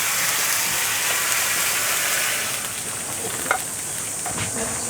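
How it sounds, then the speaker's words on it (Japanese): Water hissing and sizzling in a hot frying pan during cleanup after cooking hayashi rice beef, a loud steady sizzle that softens partway through with a faint clink. "フライパン同じように少しお水を入れて洗っておきます"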